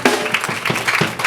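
A church congregation claps and cheers in worship, a loud continuous wash of applause with rhythmic accents, close and filling the space.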